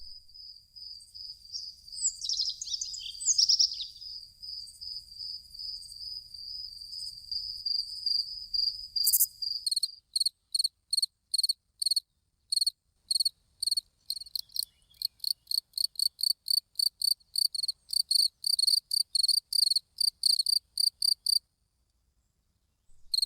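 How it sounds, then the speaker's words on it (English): Male crickets in a meadow trill in a steady high-pitched buzz, then break into rapid repeated chirps, loud and close, with no voices. "male crickets try to attract females with their songs"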